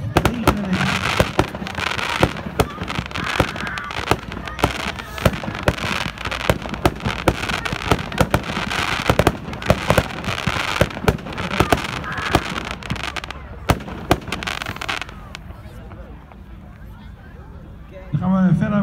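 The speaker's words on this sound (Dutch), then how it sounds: "Schietlijst, de Gangstar, 16 schot cake, artikel 1320" A Gangstar 16-shot firework cake goes off outdoors in a rapid string of loud cracking bursts that run for many seconds, then fade to crackle and quiet near the end.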